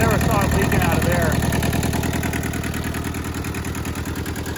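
An old rusty Hinomoto tractor's engine runs at a steady idle, a close rhythmic mechanical chugging with a continuous low throb, while someone talks briefly over it at the start.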